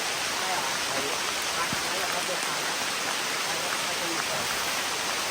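Steady heavy rain falls outdoors as a constant hiss that stays even from start to finish, with no clear voices above it.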